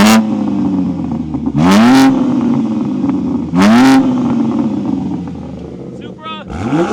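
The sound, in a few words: Toyota Supra with new exhaust revving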